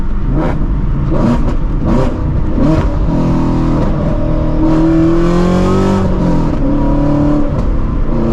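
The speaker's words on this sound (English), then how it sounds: "you can kind of hear it when I do it like that, because obviously the excessive downshift" A Ford Shelby GT350 engine revs sharply several times on hard downshifts, then climbs and falls in pitch as gears drop, loud and close with no talking.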